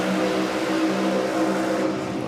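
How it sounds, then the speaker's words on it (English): A boosted outlaw-class BA Falcon drag car accelerating at a drag racing championship in New South Wales, a loud sustained engine roar with a steady harmonic drone holding across the whole short stretch. "That is the sound of a boosted outlaw with Anthony Bull in the Rocket Lane"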